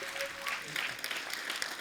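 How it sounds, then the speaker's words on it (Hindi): A studio audience at a comedy talk show claps continuously in dense, steady applause for guests, with no clear rhythm, moderately loud throughout. "जोरदार तालियां हो जाए एक बार हमारे अतिथियों के लिए"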